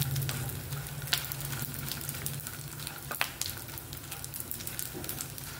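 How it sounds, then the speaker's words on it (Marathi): Edible gum (dink) roasting in ghee, a constant close crackling sizzle with a few sharp pops and light stirring scrapes, no voices. "छान असा तुपामध्ये भाजून घ्यायचा आहे।"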